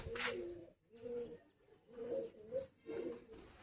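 Pigeons coo in repeated soft, throaty bursts, three or four phrases with short pauses between them, fairly close and moderately quiet, with no talking.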